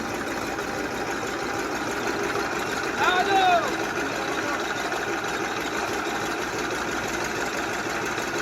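A tractor engine runs at a steady idle, a low rhythmic chugging throughout, while a person speaks briefly over it.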